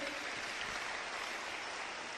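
Audience applause at a motivational seminar, a steady, even wash of many hands clapping, heard briefly and at moderate distance.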